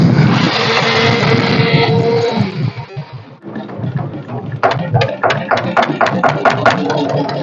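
A boat's engine runs close by, first as a loud steady roar, then easing into a rattling, chugging rhythm of quick repeated pulses.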